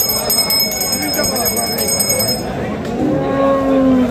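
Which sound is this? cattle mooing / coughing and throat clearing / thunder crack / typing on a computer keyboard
cattle mooing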